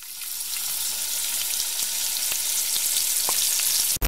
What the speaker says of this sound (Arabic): يلا دحين حنروح نقلي الاشياء اللي سويناها في الطبختين اللي قبل هذه والطبخه هذه